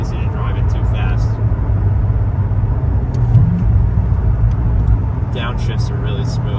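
A 2006 Chevrolet Corvette Z06 engine drones steadily from inside the cabin while it downshifts from fifth to fourth and then to third, with voices talking over the rumble.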